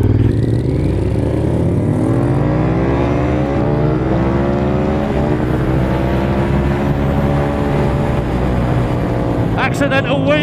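A Honda SP1 motorcycle accelerates hard enough to lift into a small accidental wheelie. The engine note climbs loud and close with rising revs, dips briefly at a gear change, then pulls again. Wind noise sits under it and a voice speaks faintly.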